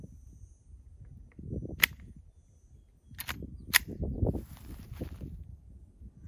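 A Glock 44 pistol fires CCI Stinger 32 grain rounds at a range, three sharp, fairly distant cracks spaced irregularly over low rumbling background noise.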